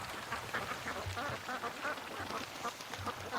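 Ducks dabble and quack in a creek, a continuous murmur of soft, overlapping quacks and splashy rustling at moderate distance, with no voices over it.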